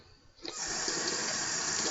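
Water runs steadily from a tap while a razor is rinsed off, a loud continuous close rushing that starts abruptly and carries on with no talking.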